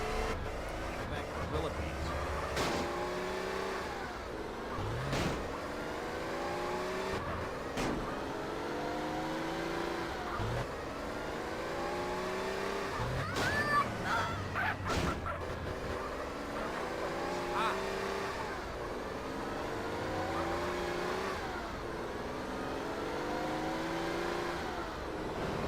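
A Bravura car driven in the video game GTA San Andreas, its engine revving up and down through repeated rising sweeps, with game voices and music layered over the steady motor drone.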